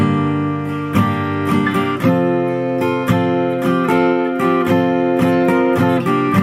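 Acoustic guitar strumming chords in a steady rhythm, chords ringing out clearly with regular sharp strokes, played alone at moderate volume.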